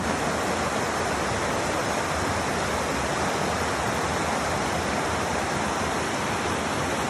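Stream water flows steadily in the Scottish countryside, a dense, continuous rushing wash that is loud and close throughout, with no voices.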